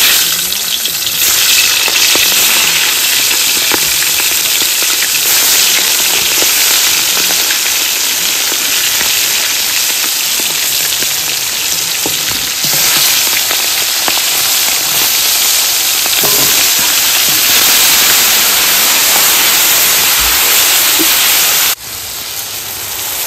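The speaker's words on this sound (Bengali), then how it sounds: "এরপর ওই তেলের মধ্যে আর একটু তেল দিয়ে চিংড়ি মাছটা ভেজে নেবো।" Fresh prawns frying in oil in a pan, with a loud, steady, dense sizzle and hiss that continues unbroken for the whole stretch.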